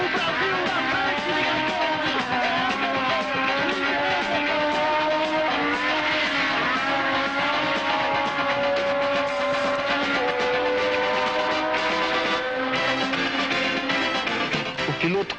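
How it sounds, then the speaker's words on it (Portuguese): Ickx's Ferrari race car rolls slowly into the pits, its engine giving a steady, droning whine with shifting tones that holds loud and continuous throughout. "Vai vagarosamente a Ferrari de Ickx."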